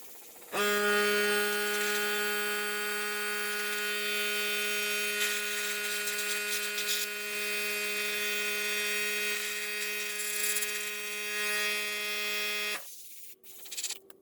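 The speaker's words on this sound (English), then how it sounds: "I have some paint here that I'm fixing to mix up in a little airbrush" A small airbrush loaded with touch-up paint lets out a steady, buzzing hiss, close and loud, that runs unbroken for about twelve seconds and then cuts off abruptly.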